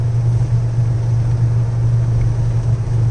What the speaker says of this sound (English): so this actually has a straight pipe exhaust on it